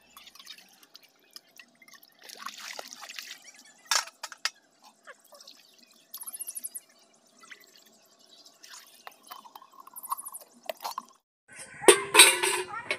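Dishes are scrubbed and rinsed by hand in a village home on a winter morning, with scattered quiet clinks, scraping and water dribbles, and a louder burst of clattering and splashing near the end.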